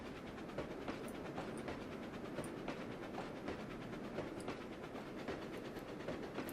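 The Flying Scotsman steam locomotive of the 1920s rolls along the rails in the Trainz: A New Era game, giving a steady rumbling run with repeated clickety-clack wheel beats over the track joints and no speech.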